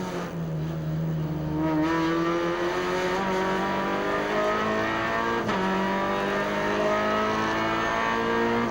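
Onboard a race car driven by Jean-Charles Vallino at Pau as the field restarts behind the safety car: a loud, close engine rising steadily through the gears, with a brief dip at a shift before climbing again.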